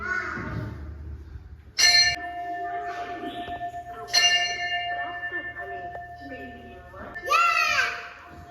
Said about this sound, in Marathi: झाली का घंटी वाजून?